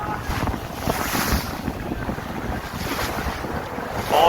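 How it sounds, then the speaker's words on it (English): Strong wind buffets a boat off Exmouth, roaring microphone gusts and rushing water filling the scene continuously, with no other distinct sounds standing out. "It's quite windy out here, so you may not be able to hear any of this"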